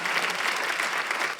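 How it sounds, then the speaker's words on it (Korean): A congregation at a Korean Sunday church service breaks into dense, even applause, many hands clapping together steadily throughout. "박수 한번 드리세요."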